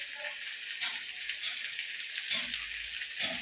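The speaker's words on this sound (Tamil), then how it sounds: "வெங்காயம் நல்லா வதங்கிடுச்சு. இப்போ வந்து தக்காளி ஊற்றிக்கலாம்." Mixer-ground tomato hits onions frying for a mustard kara kuzhambu, producing a loud, hissing sizzle close by that swells in a few bursts as the pan is stirred.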